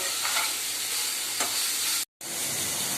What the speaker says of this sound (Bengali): এবার একটু নেড়ে চেড়ে ভালো করে